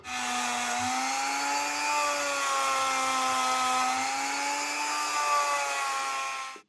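A rotary tool whines at a steady high pitch while cleaning the wheels of a Lima Class 50 model locomotive, a continuous close buzz that shifts slightly in pitch as pressure changes over several seconds.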